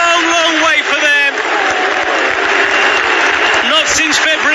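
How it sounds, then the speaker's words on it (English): Brighton football fans in a stadium cheer a goal against Southampton, a loud sustained roar of crowd noise and clapping that stays dense throughout, with a commentator talking over it. "these Brighton fans have a goal to cheer once again"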